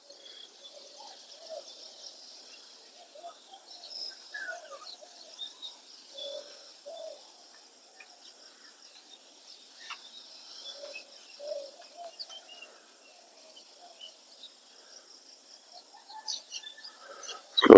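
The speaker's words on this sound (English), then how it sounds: "Slowly, slowly, some birds are coming." Pigeons coo softly while feeding outdoors, low murmuring calls repeating irregularly at a distance, faint and scattered over quiet ambient noise, with a sharp close sound at the very end.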